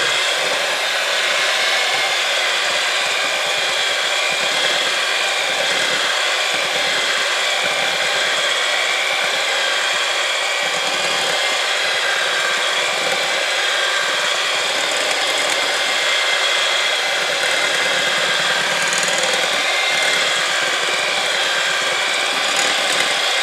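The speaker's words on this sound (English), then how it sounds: "the kids like to use the mixer" An electric mixer beating angel food and pineapple cake batter runs as a steady, loud whirring drone with no pauses, continuing unbroken for over twenty seconds and with no voices.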